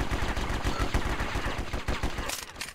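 Gunfire in the video game War Brokers: a fast, loud string of automatic shots in a steady rhythm, trailing off near the end.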